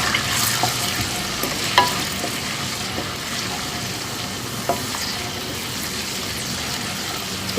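Onions sizzle steadily in hot oil in a wok, a dense continuous hiss with a few soft clicks and scrapes of stirring, close and fairly loud, no voices.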